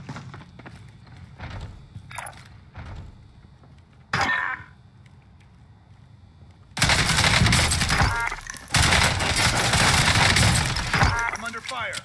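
Gunfire in Call of Duty Warzone, scattered shots and crashes early on, then a long loud burst of rapid automatic fire with a short break, while players talk over it.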